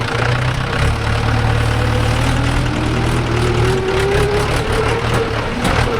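Mahindra 575 DI tractor pulling a 5-point cultivator through farmland, a loud continuous low diesel engine drone that stays steady throughout, with no talking.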